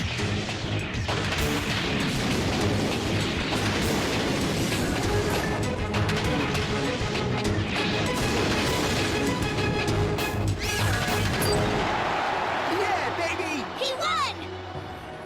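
A Yu-Gi-Oh Dark Magician attack effect in a card duel, a loud, dense burst of crashing, booming blasts and roaring energy that carries on continuously for many seconds before thinning out.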